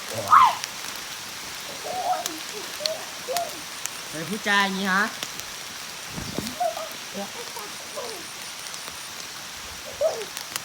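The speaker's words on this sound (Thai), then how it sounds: "ฝนตกแล้วไปลูก" Steady rain hisses in the background while people shout and talk playfully over it, with one voice rising in a brief sing-song exclamation.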